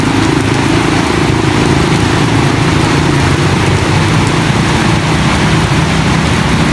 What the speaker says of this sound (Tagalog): Ngayon, ang dami, lakas-lakas na naman ang ulan.